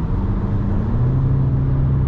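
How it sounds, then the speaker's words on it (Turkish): A Peugeot 5008 with the 130 hp engine and EAT6 automatic gearbox accelerates hard with a gear downshift, a steady close engine drone rising in pitch from inside the cabin, with no talk. "Bir gaza oturup vites düşüşünü göreceğim."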